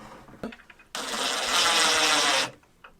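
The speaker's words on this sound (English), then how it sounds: "Now I'm going to pre-drill the marks that I just made." A power drill bores pilot holes at marked points on an upper cabinet in a van build, one sustained whirring run of about a second and a half, close and loud, framed by faint handling clatter.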